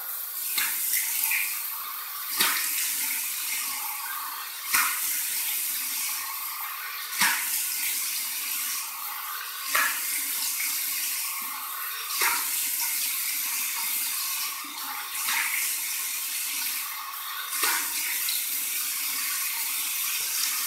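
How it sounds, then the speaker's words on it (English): Warm water from a tap for a rinse after shaving, a close, steady splashing hiss broken by regular sharp splashes every couple of seconds as hands dip under the stream. "little warm water rinse from the tap"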